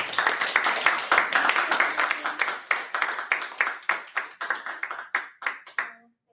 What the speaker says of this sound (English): so let's give Jiun-Yu and Tai another round of applause.